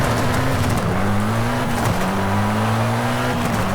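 A Mitsubishi Eclipse GSX engine in Forza Horizon 5 drones and revs through gear changes, pitch sliding up and dropping repeatedly, steady and loud.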